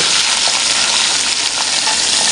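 Semolina frying in hot ghee with cream and cardamom for halwa, a loud, dense, continuous sizzle heard up close and without a break.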